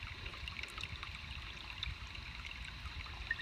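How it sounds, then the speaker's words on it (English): Water trickles steadily out of the overflow pipe of a homemade spring box, a soft continuous splashing and gurgling close by with no talk. "all your water now is going to come out your overflow"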